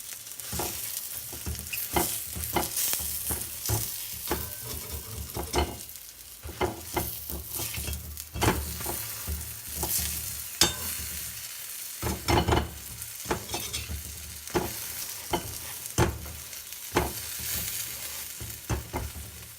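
Cheese paratha frying in oil on a pan, a constant close sizzle broken by frequent knocks and scrapes as the flatbread is pressed and moved.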